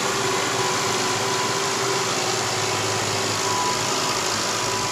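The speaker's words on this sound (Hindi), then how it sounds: "ये ट्रैक्टर भी यार कितना आवाज़ करता है" A tractor engine runs outside, a loud continuous droning rumble with a steady tone that stays constant throughout and drowns out other sound.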